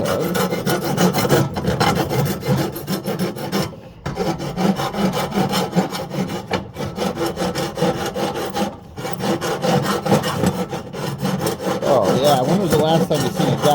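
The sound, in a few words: bastard file filing burrs off metal driveline part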